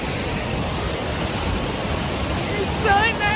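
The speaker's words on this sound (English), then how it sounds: "Finally got to the waterfall, guys." Uchan waterfall on a hiking trip, a steady broadband roar of falling water filling the whole clip, close and constant, with brief birdsong chirps near the end.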